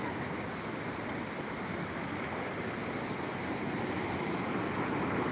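Water rushing steadily over a village river dam (bandhara), a loud, continuous broadband roar with no break, close to the microphone and with no voices heard.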